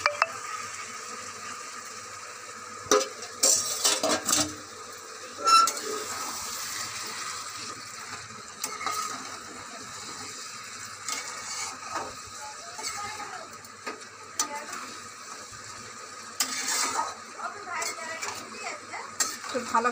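Pressure-cooked meat is stirred and sautéed in a pan with spice masala, giving intermittent scraping and clinking utensil sounds, soft and close, with a voice at times underneath.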